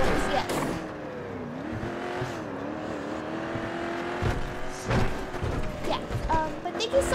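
A car driven in GTA V roleplay on NoPixel 4.0 gives off a steady engine drone with shifting pitch, some tire noise and knocks, while voices talk over it.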